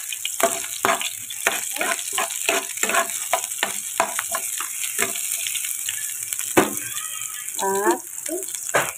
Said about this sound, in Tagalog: Igigisa na ang ating bawang. Sabay na yung ating sibuyas.